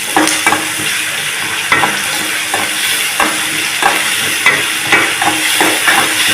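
Green chilli with ginger garlic paste sautés in a hot pan, a steady loud sizzle broken by repeated spoon stirs and scrapes, with nobody talking.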